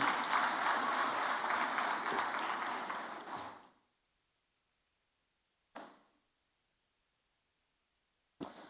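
A large crowd applauds loudly at a presidential dinner for a press corps, a dense sustained clapping that fades out after a few seconds, followed by two short isolated thumps.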